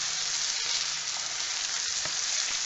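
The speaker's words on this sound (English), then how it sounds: "we will saute the rice well until all the grains are coated with the oil and a little bit dry" Basmati rice sautéing in hot oil in a pan, a steady close sizzle with faint scraping stirs now and then, alone without talk.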